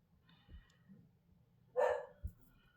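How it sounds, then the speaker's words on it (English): A dog gives a single loud bark close by inside a home, with soft thumps and quiet room sounds around it. "Don't mind the dogs."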